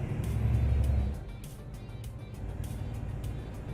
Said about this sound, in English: that engine sound is loud. Yeah, this truck is blasting you guys with sound.